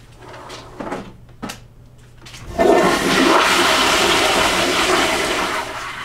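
A toilet flushes on a real makeup set, a few soft knocks and clatters first, then a loud rush of water surging in and draining steadily for several seconds, close by.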